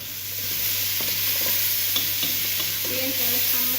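Garlic frying in a pan makes a steady, close sizzle broken by a few sharp stirring clicks, with a short voice-like sound toward the end.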